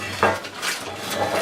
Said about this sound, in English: now what we have to do is transfer it into the tart pan